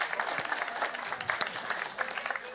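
Audience applause at a World of Tanks esports tournament, the WGLU Season Finals 2015: steady, moderately distant clapping from a crowd that continues evenly throughout.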